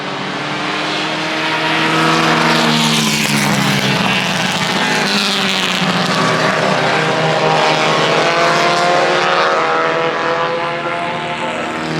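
Loud, roaring engines of old race cars at the Pittsburgh Vintage Grand Prix sweep past close by, a dense mechanical drone that swells and holds with shifting pitch.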